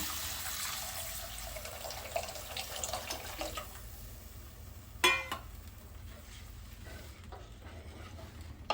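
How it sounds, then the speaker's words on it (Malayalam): Water from a lime-sized lump of soaked, squeezed tamarind is poured into a cooking pot for a Palakkad-style dish, giving a faint, soft liquid splash at first, followed by quiet kitchen clinks and light stirring. "ഞാനിതാ ഒരു നാരങ്ങ വലിപ്പത്തിലുള്ള പുളി കുതിർത്തി പിഴിഞ്ഞെടുത്തിട്ടുള്ള വെള്ളമാണ് അപ്പോൾ അത് ഒഴിച്ചു കൊടുക്കുകയാണ്"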